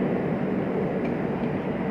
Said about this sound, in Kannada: ಈಗ ಟ್ರೈನ್ ಮೂವ್ ಆಗ್ತಾ ಇದೆ.